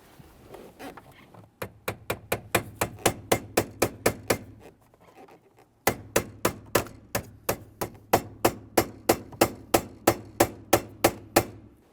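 Metal pin being tapped into an automatic transmission shift lever on a 1998-2011 Ford Ranger 2.3L, a loud, steady run of sharp hammer taps, a brief pause, then a second even series.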